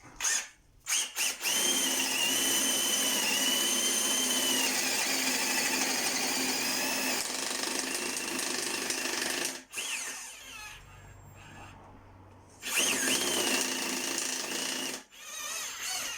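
An AEG BBH18C cordless rotary hammer drills a 24 mm hole into a wooden pallet, a loud, steady grinding roar with brief stops and restarts partway through and no talk.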